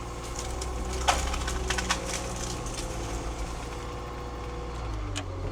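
A big loader pushing back a tree on an old farm, wood cracking and splintering in a few sharp snaps over a steady, close engine drone.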